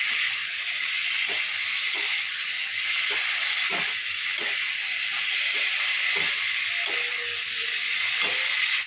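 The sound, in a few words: beetroot and carrot frying in a pan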